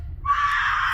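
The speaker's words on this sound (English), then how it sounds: "That could be someone screaming outside" A shrill, sustained scream rises suddenly after a brief low rumble and holds steady and loud to the end, heard alone with no talking.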